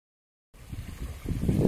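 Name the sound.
wind noise on the microphone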